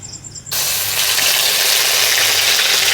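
Onion paste dropping into hot oil for a fish and taro recipe, a sudden loud sizzle that starts half a second in and holds steady, near and continuous.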